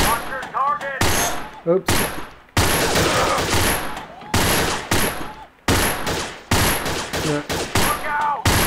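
Submachine gun fire from the Allied SMG 26-40 in the VR shooter Gun Club VR, heard as repeated loud bursts of rapid automatic shots separated by short gaps, with a player's brief spoken remarks between them.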